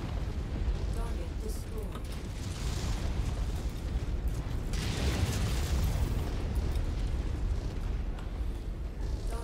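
A mech blows apart after being destroyed in the MechWarrior 5 video game. Loud, continuous rumbling blasts and booming bursts roll on for several seconds, with heavy low-end weight throughout.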